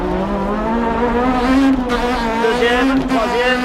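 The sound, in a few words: Renault Clio Maxi rally car handbrake turn skidding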